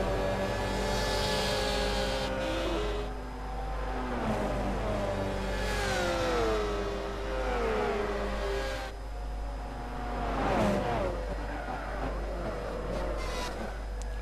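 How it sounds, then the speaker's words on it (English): GT300 race cars circling Monza in a racing video game, engines revving and shifting loudly with rising and falling tones as cars fight closely, steady engine noise throughout with no talk. "We are seeing Hecke passing Logic Line and fighting back."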